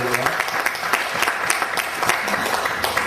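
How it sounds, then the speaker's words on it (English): Audience applause rising at a live rock and roll show honouring a pioneering Australian dance organiser, dense continuous clapping with scattered sharper claps and some crowd voices mixed in throughout. "Give a round of applause to the very first rock and roll dance organiser"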